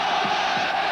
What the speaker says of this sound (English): the Mönchengladbach crowd urging their side on